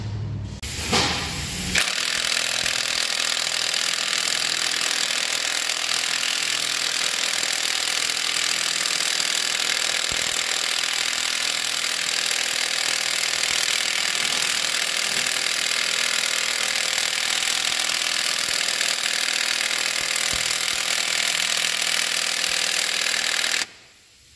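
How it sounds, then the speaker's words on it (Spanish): A low-powered impact wrench hammers on a crankshaft pulley (damper) bolt, starting after a short clunk and rattling loud and close in one unbroken burst of about 22 seconds before cutting off. "Aquí pueden ayudarse ahora de las pistolas de impacto."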